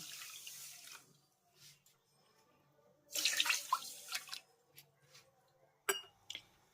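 Water poured into a pot of sugar on a gas stove to make syrup for carrot rasgulla, coming in two short splashing bursts with quiet gaps between and no talking.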